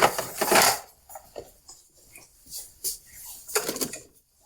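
Plastic drip trays clatter and scrape as they are pulled out of a Jura A1 / ENA 1 Micro coffee machine, a few sharp knocks and slides close up, with quiet pauses between.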